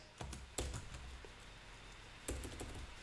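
Code is typed on a computer keyboard in a few quiet, scattered bursts of keystrokes, close and soft against a faint room background.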